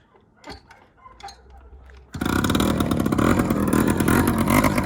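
A Honda Raz scooter engine starts up after a few quiet clicks and then runs at a loud, buzzy, rattling idle close by.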